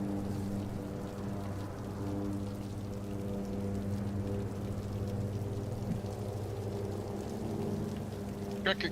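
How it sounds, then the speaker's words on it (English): Rain falls in American Truck Simulator as a faint, steady patter over a low, constant engine drone. "Speaking of dropping, we got some rain dropping"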